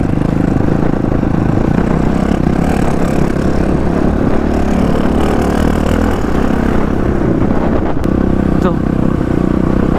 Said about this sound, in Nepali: रमाइलो गर्दै जानुपर्छ दुईवटा बाइकमा, दुईवटा डट बाइकमा